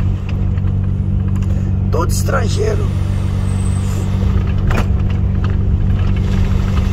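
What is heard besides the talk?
trucks and cars idling at a fuel station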